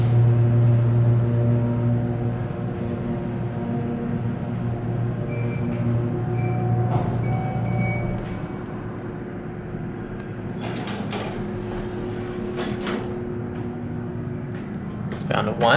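A Schindler 300A hydraulic elevator with RT fixtures at a Dillard's store rises, first with a loud steady motor drone and tonal hum, then a softer run with door and mechanical clunks near the end.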